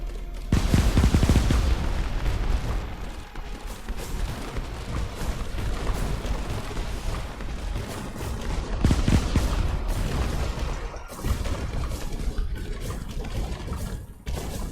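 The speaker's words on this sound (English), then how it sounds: "Cannons, fire at will." Cannons fire in a naval battle within a video game, a loud, dense barrage of overlapping booms and rapid shots rolling on without pause for the whole stretch.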